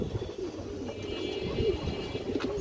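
Pigeons from a proven breeding line coo softly in a loft, low murmuring calls repeating through steady background noise, with no talking.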